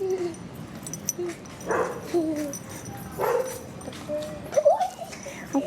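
A dog whimpers and yips in short bursts at moderate distance, with a few brief high cries spaced across the moment against a faint outdoor background.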